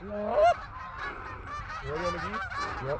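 Several geese honk as they fly in over a duck and goose hunting spread in Alberta, a flurry of overlapping calls that sound fairly close. The honks carry on through the whole moment with no talk.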